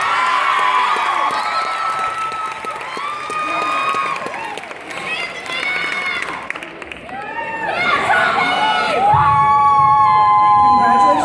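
A crowd cheers, whoops and applauds the ten finalists at the Mr. & Ms. Kennedy 2015 pageant, loud and continuous, with shouting voices and bursts of high-pitched cheering over the steady clapping.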